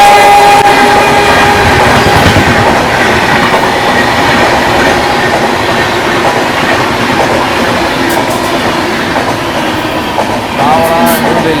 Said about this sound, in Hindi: Howrah new Delhi Rajdhani overtaking eight Ghaziabad junction.